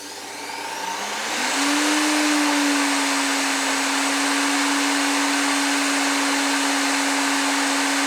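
A corded Evolution mitre saw spins up from a quiet start. Within about a second and a half it reaches a loud, steady high-pitched motor whine that holds without cutting or talk.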